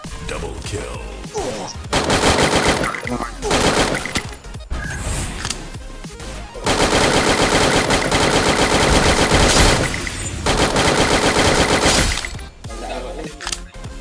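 Gunfire in the video game Free Fire rattles in long, dense automatic bursts, loud and close, with brief pauses between volleys and a faint voice now and then.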